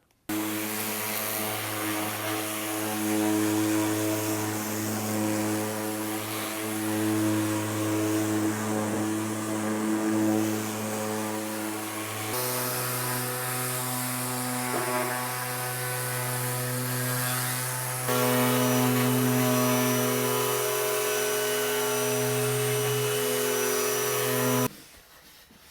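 80-grit Gator sandpaper on a power sander works weathered wood, a steady, loud droning whir with a strong tonal hum that shifts pitch at a couple of points and then cuts off near the end.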